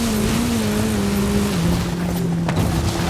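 Hoonigan RS200 Evolution rally car in a racing video game, its engine holding a steady droning tone with slight pitch dips as it cruises, loud and continuous with a brief gear change or bump near the end.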